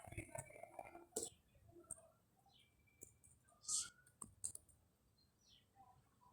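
Sparse clicks of someone typing on a computer keyboard, irregular and quiet, spaced out with pauses, close by and set against a near-silent room.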